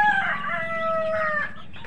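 Chickens on a farm raising birds for breeding, a close, loud, drawn-out rooster-like call with a long tonal note and a clucking tail.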